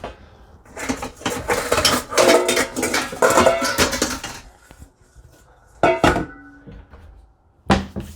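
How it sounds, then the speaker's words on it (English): A bowl being handled in a kitchen while making saltine crackers: loud close clatter of dishes and clinking as bowls are moved and rummaged through, then quieter knocks and a couple of sharp clunks. "So I'm just going to find a nice bowl for this."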